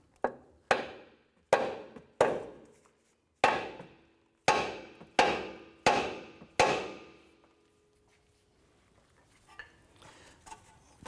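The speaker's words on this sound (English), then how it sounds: "We're going to use a hammer and strike the side right here" Nine sharp metallic hammer blows ring out close by in an uneven rhythm, striking the steering knuckle of a 2004-2008 Acura TL to separate the lower ball joint, each with a short ringing decay, followed by quiet shuffling.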